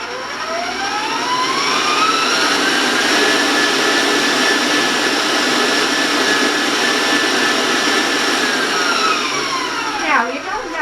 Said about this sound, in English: I want to warn you about the sound of the mixer